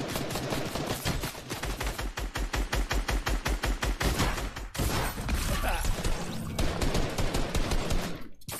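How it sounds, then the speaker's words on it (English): Loud, rapid bursts of automatic gunfire from Fortnite Team Rumble, dense volleys firing nearly nonstop with a few brief pauses and some talk mixed underneath. "I hear gunfire already."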